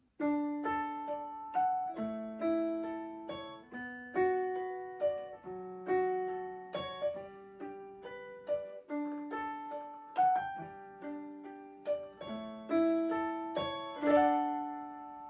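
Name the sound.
digital guitar playing with piano tone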